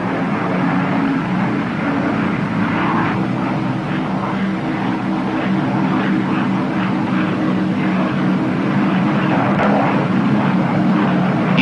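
The twin engines of a 1944 P-61 aircraft drone steadily with a low, throbbing propeller hum, constant and fairly loud, as if heard from inside the cabin.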